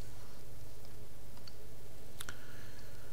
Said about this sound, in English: hit 3 on the keyboard.